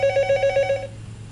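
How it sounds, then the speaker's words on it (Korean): A telephone bell rings in a rapid repeating trill for under a second, then stops, leaving a low steady hum in a quiet room. "또 전화가 왔네요."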